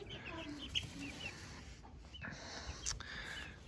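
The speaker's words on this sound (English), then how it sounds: "Chickens like to roost and get up off the ground." Young chicks in a simple brooder give soft, scattered clucks and peeps, fairly quiet against a steady background hum, with no talk.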